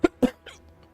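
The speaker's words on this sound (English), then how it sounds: "It's just a cough." Two sharp, close coughs in quick succession followed by a softer breathy trailing sound.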